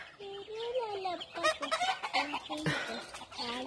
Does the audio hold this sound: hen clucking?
yes